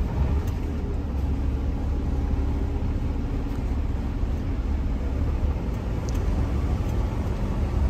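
Western Star truck with a 560 hp engine and automatic transmission rolling along the road, giving a steady, continuous low rumble from start to finish with no gear-shift breaks and no voices.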